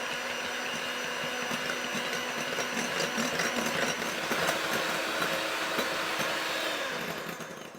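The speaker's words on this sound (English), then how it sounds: "next I'm going to beat my eggs with an electric mixer until they're light pale yellow in color" An electric mixer beats eggs in a bowl, giving off a steady, moderately loud motor whir with a rattling, churning texture that runs for several seconds before easing off.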